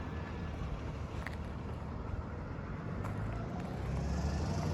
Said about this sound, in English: the school bus is making all that noise